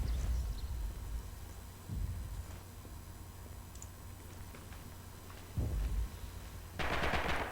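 Machine-gun fire in a competitive multiplayer shooter match comes in several short, separate rattling bursts spread across the stretch, heard close and fairly loud with no talking.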